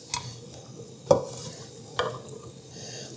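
Onions stirred with a utensil in a Staub cast iron Dutch oven, three distinct scraping knocks against the pot over a soft low sizzle, close and fairly quiet with no talking.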